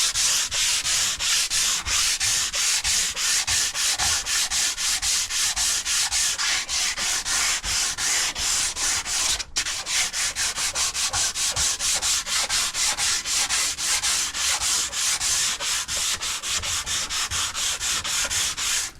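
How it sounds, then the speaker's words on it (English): Close, loud hand sanding of a fighting chair's wood with 150 grit sandpaper along the grain, a fast, even run of rhythmic back-and-forth strokes lasting the whole stretch, with one brief break partway through. "This is 150 grit sandpaper."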